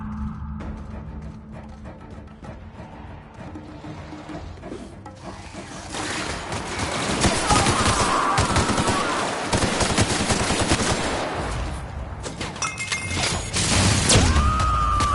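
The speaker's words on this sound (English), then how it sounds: "Returning fire!" Heavy automatic gunfire erupts in dense, continuous bursts, building louder after a quieter start, with crashing impacts mixed in and no voices.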